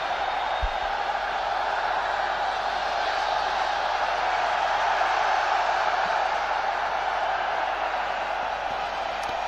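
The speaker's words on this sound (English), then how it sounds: "Lots of cheer about this morning for the Indian supporters" A large crowd of Indian supporters cheers steadily at a cricket Test match in Kolkata, a dense, continuous roar of distant voices that holds level throughout with no single voice standing out.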